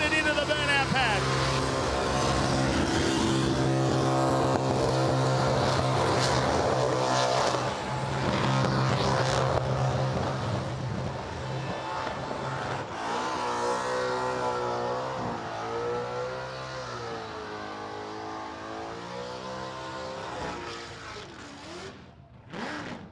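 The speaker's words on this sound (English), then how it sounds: "Time to light the back tires up and send it into the burnout pad." A car engine idles and then revs hard with rising and falling pitch before a tire burnout at the Summernats 35 Burnout Masters grand final, loud and close, while people talk over it.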